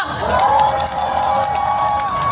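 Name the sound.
crowd applauding and cheering at a rally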